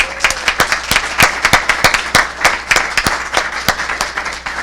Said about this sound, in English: So can we give them another big round of applause?